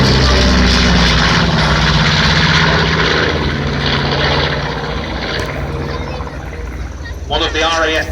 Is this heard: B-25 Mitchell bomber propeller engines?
yes